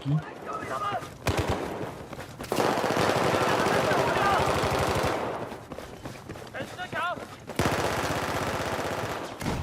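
Automatic M4 rifle fire in Battlefield 4, loud rapid bursts of gunshots with short pauses between strings, heavy sustained volleys in the middle and at the end.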